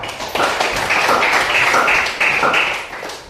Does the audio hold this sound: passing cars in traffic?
no